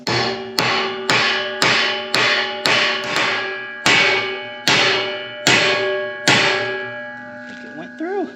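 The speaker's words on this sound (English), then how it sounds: "Need a metal hammer for this." A metal hammer pounding a pipe into a drilled fence post hole, about ten loud ringing clangs in a steady rhythm, each with a long metallic ring, before a brief quieter scrape at the end.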